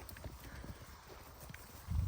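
A few soft hoof knocks from a horse walking nearby, faint and irregular, ending in a louder low thump.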